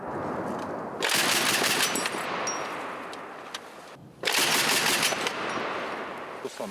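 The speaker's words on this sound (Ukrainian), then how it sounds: "Бійці готують до роботи автоматичний гранатомет." Bursts of rapid heavy weapon fire from an AGS automatic grenade launcher fired by Ukrainian infantry, two long volleys separated by a pause, loud and close, with outdoor background noise.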